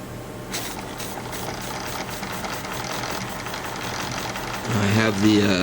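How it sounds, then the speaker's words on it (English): A model steam engine, a red and brass overtype from 1920-30, chugs steadily with a fast, even mechanical beat, growing a little louder and rougher toward the end. "a very powerful running engine"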